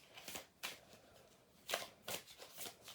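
Tarot cards shuffled by hand in several quick riffling bursts, each a crisp papery rush, with short quiet gaps between them and no talking.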